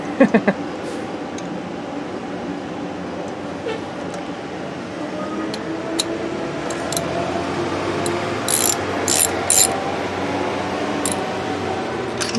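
A ratchet wrench runs a spark plug down into a cylinder of a 2011 Hyundai Elantra Touring, giving soft repeated clicking over a low room hum, with a few sharper metallic ticks near the end and no talking.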